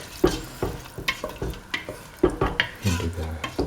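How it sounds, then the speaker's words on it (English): Rice is stirred into a duck and coconut milk mixture in a pot, a spoon scraping and knocking the pan in repeated close strokes, with a soft simmering sizzle underneath. "mix in the rice"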